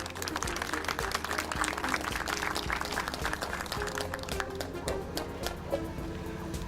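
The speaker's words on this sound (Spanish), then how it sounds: "Recibamos entonces con un fuerte voto de aplausos al doctor Carlos Tulio da Silva Medeiro." An audience applauds a speaker being welcomed at an education conference in Medellín, Colombia, with steady, dense clapping from many hands throughout that thins slightly toward the end.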